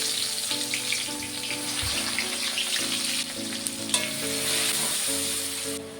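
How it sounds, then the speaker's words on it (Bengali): Chopped onions sizzle steadily in hot oil for homemade chicken chow mein, a continuous crackling fry with scraping stir sounds, close and fairly loud. "এই তেলের মধ্যে দিয়ে দেবো পেঁয়াজ কুচি"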